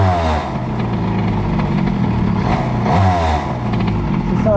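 Moped engine fitted with an Airsal T6 65 kit, revving loud and close, its note rising and falling as the throttle opens in a couple of surges.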